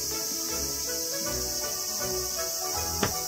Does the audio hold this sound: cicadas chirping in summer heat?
yes